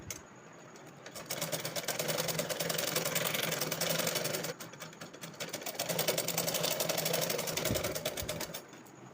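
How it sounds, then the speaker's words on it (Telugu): A sewing machine runs in two steady bursts while stitching a blouse sleeve, a fast, even mechanical whir with a rapid ticking pulse, nearby and continuous, with a brief pause between runs. "ఈ విధంగా స్టిచ్ చేసుకోవాలండి."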